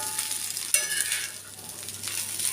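Adai dosa batter sizzles and fries in sesame oil on a hot pan, a steady soft crackling hiss with a brief utensil scrape midway, close and moderately quiet.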